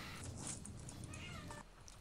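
A female cat meows indoors with a drawn-out, tonal call near the end, set against steady background noise and faint game sounds.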